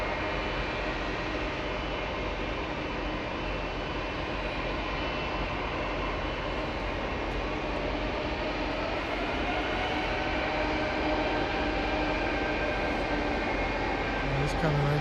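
Large passenger jets at Toronto Pearson airport give a continuous, loud engine roar lasting the whole stretch, with talking over it.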